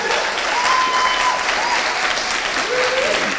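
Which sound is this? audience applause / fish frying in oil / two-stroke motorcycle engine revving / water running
audience applause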